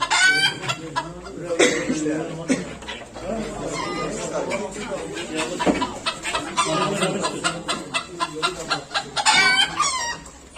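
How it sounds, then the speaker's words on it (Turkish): Ornamental hens cluck busily while an ornamental rooster crows nearby, with a voice speaking among the birds at a poultry and pigeon auction. "Burada tavuğu, horozu."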